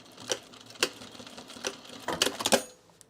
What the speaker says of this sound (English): I'm gonna sew it a little closer